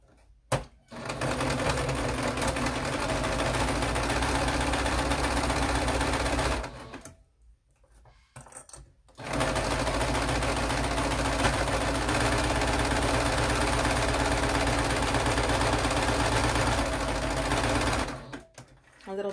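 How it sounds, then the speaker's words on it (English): A sewing machine stitches down face mask fabric in long continuous runs, a steady close mechanical whir that stops briefly near the middle before resuming and running on to the end. "I want to sew these down."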